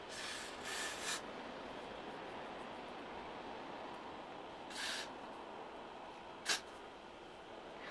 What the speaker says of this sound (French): je vais juste encore passer le spray là et encore attacher pour que ça colle bien